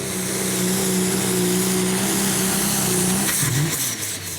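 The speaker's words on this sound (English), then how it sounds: "sounds as though it's got an engine problem there. Down on the cylinder, certainly." A loud pulling-tractor engine drones steadily with uneven pitch wobbles, then dips and stutters near the end as if losing power, misfiring and down on a cylinder at a tractor pulling championship; no voices.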